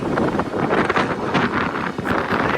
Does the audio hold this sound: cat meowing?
no